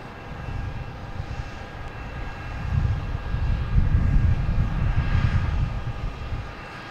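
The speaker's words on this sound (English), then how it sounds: "British Airways. Turning for final." A British Airways airliner on final approach to Boston Logan rumbles in the distance, a broad low engine roar that swells gradually and stays steady through the middle, with no talk.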